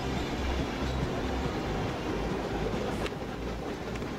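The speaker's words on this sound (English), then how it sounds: "Or we've just got an electric train that's gonna go wandering." An electric train runs in the video game Chris Sawyer's Locomotion, giving a steady, loud rolling rumble that continues unbroken throughout with no talk.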